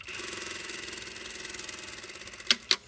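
A sewing machine runs steadily, stitching down the raw edge of a fabric seam at a right-angle corner. The motor hum is even and continuous, and two sharp clicks come near the end.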